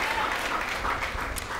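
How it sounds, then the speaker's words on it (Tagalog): A church congregation claps together during a worship service, a brief burst of steady, dense applause filling the room, with no one speaking over it. "Pumalakpak ng the best para kay Jesus ang mga tatanggap ng himala."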